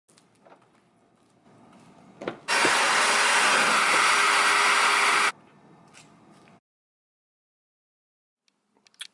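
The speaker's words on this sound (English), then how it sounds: "So I'm going to take out all the mats and get this vehicle vacuumed." A loud, steady vacuum cleaner roar runs for about three seconds between quieter handling noises and rustling, then cuts off abruptly.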